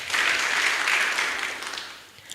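An audience at a local election candidates' debate applauds a candidate in a steady wash of clapping that fades gradually toward the end.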